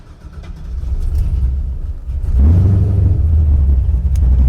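An LS-swapped Chevy Nova with a big cam cranks and fires into a loud, deep idle with a lumpy rumble, heard up close and steady after catching, with no voices.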